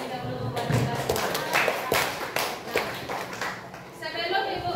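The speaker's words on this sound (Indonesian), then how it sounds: "Silakan tepuk tangan terlebih dahulu buat kita semua." Students clap in an Indonesian classroom after group discussion presentations, a busy patter of hand claps lasting several seconds at moderate loudness, with talking and shuffling mixed in.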